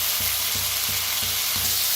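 Roasted pods are stirred in a hot frying pan, a constant sizzle broken by regular scraping strokes about three times a second, close and loud with no speech.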